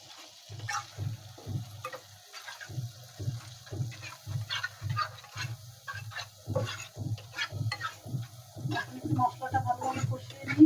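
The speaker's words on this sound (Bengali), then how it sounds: "মশলাটা ভালোভাবে কষিয়ে নিই।" Turmeric and salt spice paste for fish curry fries in a pan while a spatula scrapes and stirs in a steady repeating rhythm, a soft sizzle running underneath the close scraping strokes.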